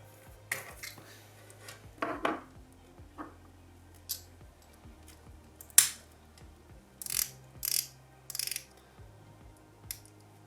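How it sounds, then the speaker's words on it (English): Rotating zirconium oxide ceramic bezel on a Formex Reef dive watch, turned in short bursts of faint, crisp mechanical clicks and ratcheting ticks, irregularly spaced and heard alone. "rotating zirconium oxide ceramic bezel, which comes in your choice of blue, black or green"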